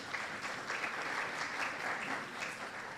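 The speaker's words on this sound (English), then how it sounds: "Please, another round of applause for Emmanuel." A crowd at a youth policy dialogue applauds steadily for a speaker, a dense, even wash of many hands clapping at moderate distance throughout.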